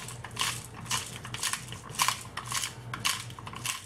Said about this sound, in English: Squeeze some black pepper on there